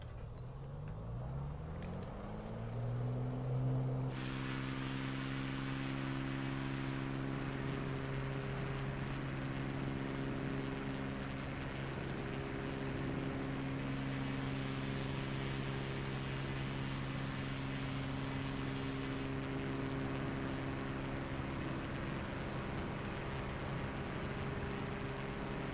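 Aircraft engine in Microsoft Flight Simulator throttling up, its tone climbing steadily over the first seconds and then settling into a loud, sustained drone with a steady hum.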